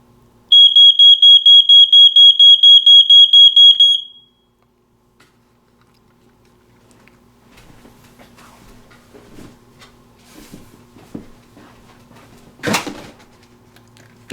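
A smoke alarm beeps loudly in a fast repeated pattern for a few seconds, then stops, leaving quiet rustling and handling noises.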